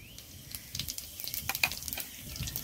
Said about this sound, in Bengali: জিরে আর শুকনো লঙ্কাটা একটু ভালো করে ভেজে নেব